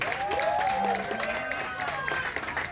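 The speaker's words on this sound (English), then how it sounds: "A big round of applause for our production manager, Tony, and my team." Dinner audience aboard the cruise ship Discovery Princess applauding a production manager and team, clapping and cheering with scattered voices mixed in.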